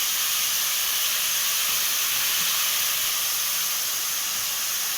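Mushroom gravy simmers in a pan with a steady, even hiss that holds unchanged throughout, fairly loud and close, with no voices.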